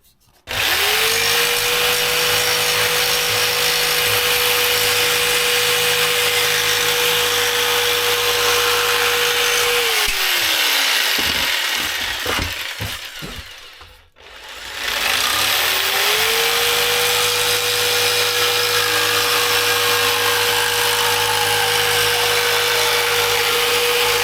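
A power saw cuts a wooden patch for a Mirror dinghy repair: a loud, steady motor whine for about ten seconds, a brief stop with rattling, then a second long cutting run, with no voices.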